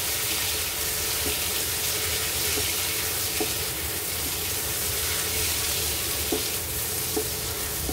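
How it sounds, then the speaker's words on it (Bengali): A constant hiss of soybean mince frying in a pan, with occasional faint clicks and scrapes from stirring, steady throughout. "জাস্ট ভাজা ভাজা টাইপের সয়াবিনটা দিয়ে একবারে ভাজবো।"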